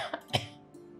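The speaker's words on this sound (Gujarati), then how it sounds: "તને ખાંસી આવે છે ને?" A single short cough with a throaty clearing sound, close and fairly quiet, in a family room setting.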